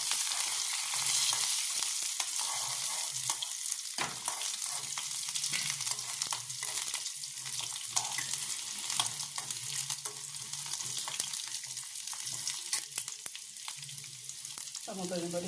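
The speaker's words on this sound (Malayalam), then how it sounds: "നമുക്ക് കടുക് വറക്കാം." Mustard seeds fry in hot oil with shallots, curry leaves and dried red chillies, a steady bright sizzle with crackling pops and occasional stirring scrapes throughout.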